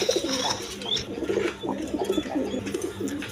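Red Gola pigeons kept in pairs with chicks at a farm give soft, repeated throaty coos close by, with no talk over them.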